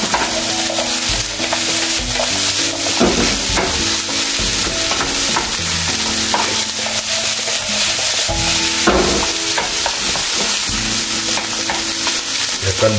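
Korean-style fried rice with red and green bell peppers and peas being stirred and tossed in a hot pan, a steady sizzle under repeated scraping strokes of the spatula, close and loud, no voices.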